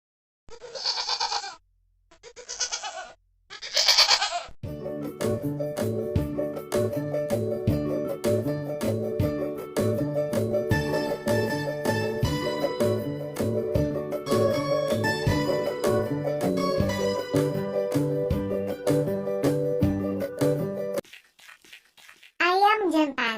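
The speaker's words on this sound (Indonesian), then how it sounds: "Kambing." A goat bleats three times in short, loud bursts close by, followed by a long stretch of cheerful backing music and a final brief bleat-like call.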